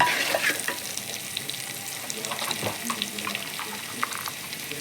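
Ground spices (chili powder, coriander powder, turmeric and salt) fry in a pan for prawn biryani, giving a steady close hiss and sizzle with faint light scraping throughout, no voices.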